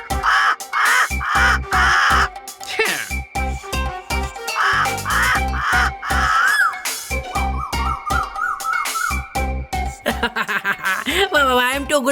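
A voice mimicking a koel's rising call, repeated in loud, bright, warbling bursts, with cartoon music and percussive beats pounding underneath.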